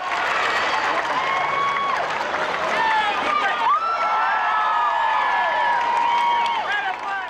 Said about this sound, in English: For the crowd outside, the first glimpse of the married couple brought more cheers than any of Gretzkys' famous goals.